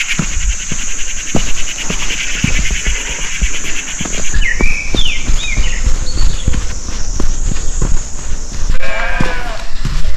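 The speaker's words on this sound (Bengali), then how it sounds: "দূর থেকে এই ভেড়াগুলোর তারস্বরে চিৎকার শুনে আমি একটু ভয়ই পেয়েছিলাম" Sheep bleat loudly several times over a constant insect-like drone, with footsteps crunching along outdoors on a hill trek near Thamri Kund, Munsiyari, Uttarakhand.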